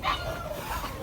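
A new puppy gives soft, yippy little barks and whimpers close by, fairly steady across the moment with no talking over it.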